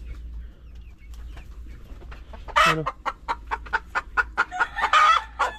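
Dekalb Brown hens beside their nest boxes cluck loudly and close by. A quick run of repeated clucks and squawks builds in the second half over faint background noise.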